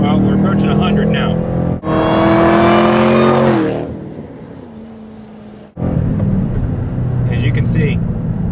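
A Roush Ford 427R revs hard through the gears on a test drive, loud engine rising in pitch, a brief dip at each shift, then a lower steady drone before accelerating again, with talk over it.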